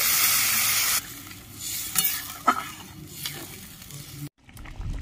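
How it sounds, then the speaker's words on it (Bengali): Pointed gourd and potato with spices being sautéed in a pan: a loud sizzle at first, then quieter frying with spatula scrapes and a sharp clink, a brief gap, and the sizzle returning, close up with no voices. "ভালো করে একটু সবজিটা দিয়ে কষিয়ে নেব"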